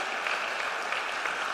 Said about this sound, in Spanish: Damos un aplauso a la palabra.